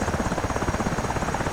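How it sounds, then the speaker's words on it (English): A helicopter landing on an aircraft carrier deck in the DCS flight simulator game produces a loud, continuous rotor chop with a dense engine roar throughout, steady and close with no other sounds. "Because essentially what will happen is that helicopter will land,"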